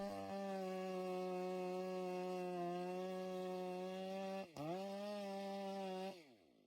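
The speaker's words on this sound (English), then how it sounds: "The operator carefully angles the chainsaw, removing a wedge-shaped section from the front of the tree." Chainsaw cutting a wedge-shaped face notch into a massive tree trunk, a loud sustained engine whine holding steady pitch, briefly dipping as the bar bites, then revving down at the end; no talking.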